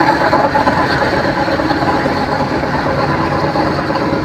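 A passenger launch engine rumbles steadily on a river trip from Dhaka to Bhola, a continuous low droning hum with broadband noise and no talk.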